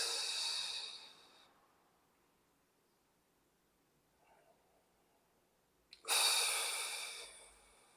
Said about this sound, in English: Make sure we're breathing.